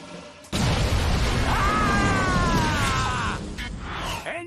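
A cartoon explosion from an exploding toilet prank: a sudden loud blast that rolls into a sustained roaring rumble with a wailing, descending tone layered on top before fading.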